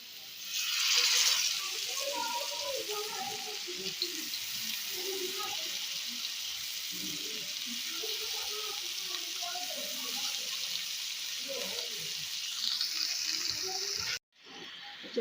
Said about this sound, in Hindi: अब इसके ऊपर मैंने चारों सीखें जो है वो रख देनी है।